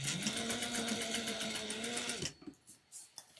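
A sewing machine runs steadily stitching a 3/8-inch seam on a triangular shoulder bag, a fast close mechanical whir that stops abruptly, followed by a few faint handling clicks.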